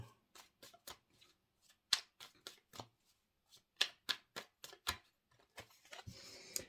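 Tarot cards shuffled by hand close to the microphone, a quiet series of sharp riffling snaps and slaps in an irregular rhythm, ending in a longer soft rustle.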